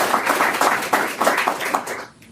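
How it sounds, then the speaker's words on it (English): Audience applause at an open mic evening in Dearborn, a couple of seconds of steady clapping from a small room crowd that fades out at the end, with no talking. "let's give a round of applause to Wissam for sharing his work with us now."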